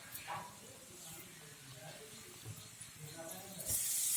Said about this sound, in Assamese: অলপ অলপকৈ ফ্ৰাই কৰিম